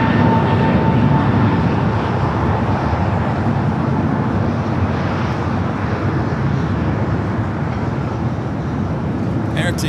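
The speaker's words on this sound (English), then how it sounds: "Air Tahiti, Flight 7 coming up from Paris, touching down 25 at left" An Air Tahiti airliner inbound from Paris touches down on runway 25 left at a busy airport, a loud, steady broadband engine roar filling the whole stretch, with a voice faintly over the top.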